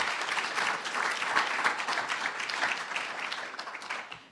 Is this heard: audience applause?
yes